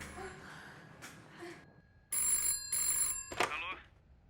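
An electronic telephone bell in a 2021 dragon thriller rings in two loud buzzing bursts after a woman's gasps and heavy breathing, followed by a sharp clatter as the handset is grabbed.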